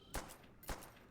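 Two sharp M1911 pistol shots in Call of Duty: World at War, each a loud broadband crack with a short decaying tail, spaced about half a second apart with no voices.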